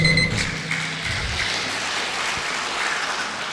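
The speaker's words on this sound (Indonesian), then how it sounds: "Yang tepuk tangan pasti dari manajemen." Applause from an audience at a university rector candidates' vision and mission forum, a dense burst of clapping that starts loud and carries on steadily before thinning out.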